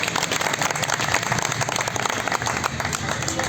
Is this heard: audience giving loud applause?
yes